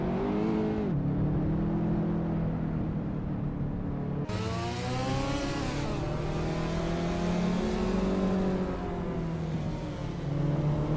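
Race cars accelerating around a track in a racing video game, engines droning and revving steadily with rising pitch sweeps as gears climb, loud and continuous with no pauses.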